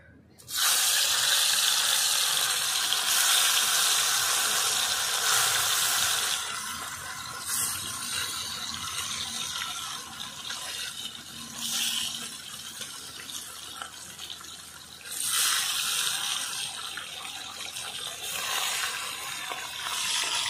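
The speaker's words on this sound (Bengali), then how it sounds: "আজকে মাছের ঝালের জন্যই আমি প্রথমে মাছগুলো ভেজে নেব এক এক করে" Whole rupchanda (pomfret) fish frying in hot oil, a loud steady broadband sizzle that starts abruptly and holds, easing slightly midway with brief surges of hissing spatter, no talk over it.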